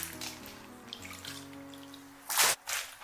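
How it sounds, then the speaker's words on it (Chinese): Oyster mushrooms are rinsed in clean water, with soft sloshing and dripping close by, then a louder splashing burst near the end followed by a brief trickle. "我们再用清水多给它清洗2遍，把平菇给它洗干净"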